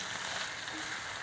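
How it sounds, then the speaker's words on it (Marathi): Finely chopped shimla mirch capsicum sautés in a pan with a steady, soft sizzle, faint and even throughout, with no voices. "आता ही चांगली मिरची परतूस तर 2 मिनिटं सारखं आपण हलवायचं"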